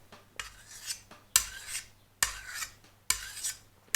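An old pleaching billhook blade is drawn across a diamond sharpening stone in four rasping strokes, each a sharp scraping swipe that fades as the blade pulls away, close and clear with no talk.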